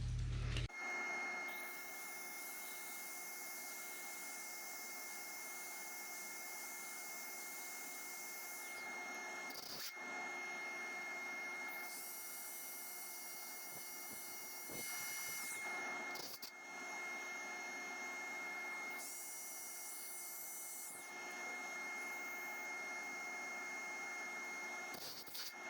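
A woodturning lathe spins steadily while a custom inlaid wooden pet urn is sanded, its even motor whine overlaid by recurring rough, hissing bursts of friction.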